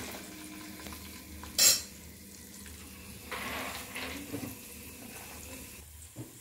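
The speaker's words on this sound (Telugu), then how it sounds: "ఇప్పుడు ఈ పోపు వేగనిద్దాము." Cumin and mustard seeds in hot oil give a steady low sizzle, with a sharp clatter early on and some scraping and stirring later; no voices are heard.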